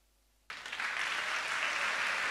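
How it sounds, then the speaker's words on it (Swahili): A church congregation bursts into applause after a pause, the clapping starting abruptly and continuing as a dense, fairly faint wash of many hands in a large hall. "Hayo makofi yatosha."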